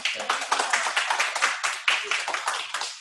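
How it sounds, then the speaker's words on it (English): A round of applause from an audience at a sales training event, steady dense clapping from many hands that stays loud and continuous throughout. "Let's give Hill a round of applause."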